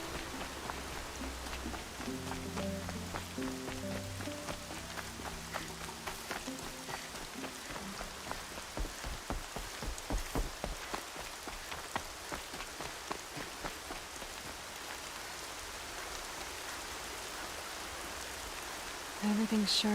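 Steady rain falls in the video game Horizon Zero Dawn, a dense, even hiss of drops on surfaces running throughout, with faint voice-like tones low in the mix during the first few seconds.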